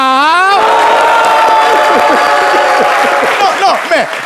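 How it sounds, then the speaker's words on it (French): A television studio audience on a French-language talk show bursts into loud applause and cheering, sustained clapping and whoops close up and alone. "vous riez fort et vous applaudissez plus fort"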